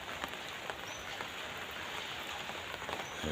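Light morning rain falls in small drops, a steady soft hiss of patter on surfaces with scattered faint drips, continuous and fairly near, with no voices.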